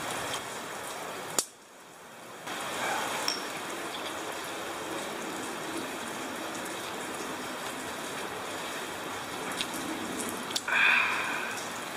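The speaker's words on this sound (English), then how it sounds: "It's a nice rainy day at the park here" Steady rain falls at an outdoor park during a lunch outing, a broad continuous patter and hiss with a few sharper clinks and a brief dip near the start.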